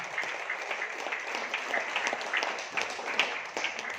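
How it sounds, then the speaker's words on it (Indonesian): Audience applause at an Indonesian marketing plan presentation, steady dense clapping from a crowd in an indoor hall, moderately loud and continuous throughout. "Boleh aplaus Bapak Ibu semuanya."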